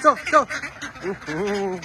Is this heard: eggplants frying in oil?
no